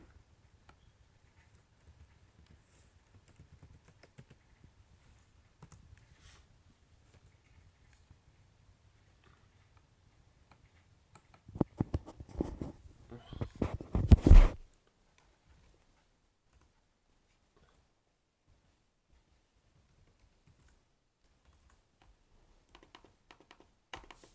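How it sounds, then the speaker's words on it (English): Rapid keystrokes on a computer keyboard as a password is entered, a short cluster of clicky taps lasting about three seconds in an otherwise near-silent room, with faint scattered ticks before and after. "I'm gonna put the password in again."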